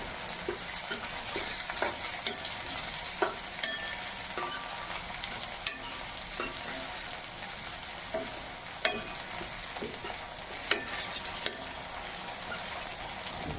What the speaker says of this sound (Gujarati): હવે આપણે બટાકા નાખી દઈશું.